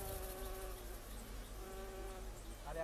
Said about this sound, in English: hives dripping with bees and honey